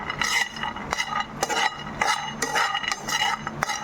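Kura karam podi spices frying on a medium flame while being stirred in a pan, repeated scraping clinks of the spoon against metal over a soft sizzle, close and steady.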